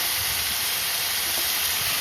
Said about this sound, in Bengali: এবার ভাজা কাঁকড়া